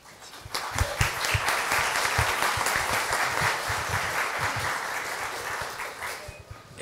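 An audience at a university forum claps in sustained, dense applause that swells and holds for several seconds before tapering off.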